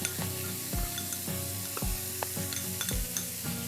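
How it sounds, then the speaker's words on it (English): Corn kernels hiss and crackle in a hot pan with garlic, a steady close sizzle broken by a few scraping stirs, with no voices. "now we're going to add our corn"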